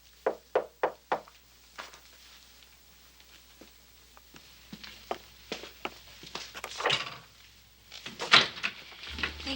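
Four sharp knocks on a door come in quick succession, followed by a few more scattered raps. Then footsteps approach and the door is handled with bumps and clatter, all close and moderately loud.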